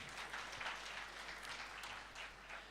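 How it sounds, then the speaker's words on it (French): Faint, steady applause from a formal ceremony audience in Mali, continuous clapping heard at a distance for a few seconds. "On va les applaudir, ceux qui les ont choisis."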